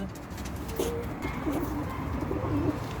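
Pigeons coo softly in low, rolling calls against a steady background of ambient noise.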